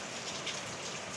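Steady rain falls as a dense, even hiss of drops striking surfaces, faint and continuous throughout, with no voices.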